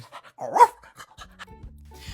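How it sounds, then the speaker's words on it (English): Dog panting in quick, breathy bursts close by, with a short vocal yip among the breaths, indoors in a children's clubhouse setting. "And this is Bark, the Wonder Dog"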